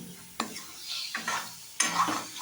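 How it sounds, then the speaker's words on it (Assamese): Chicken meat being stirred in a dry kadai without oil over a low flame, faint scraping stir strokes and light sizzle in a few separate bursts, no talk. "এই কেৰাহীটোত মই এতিয়া মাংসখিনি দি দিছোঁ"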